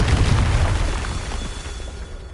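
A Confringo fire spell blasts in Hogwarts Legacy, a loud booming explosion that hits at once and then rumbles away over about two seconds, with no voices.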